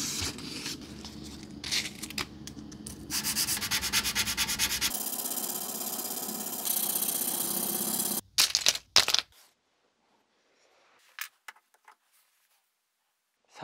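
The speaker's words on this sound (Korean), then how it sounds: "사포 작업이 끝났습니다." Sandpaper scrubbing deep rust off the steel lower section of a knife blade, a loud, steady rasping rub lasting about eight seconds, then a few short scrapes and taps before quiet.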